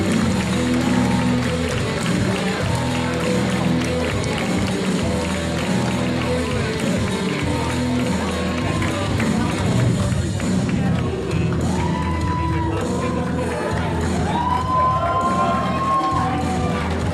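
A packed pro wrestling crowd at a Creation Pro Wrestling show cheers and roars on its feet, with a steady, loud din of shouting voices and applause sustained throughout.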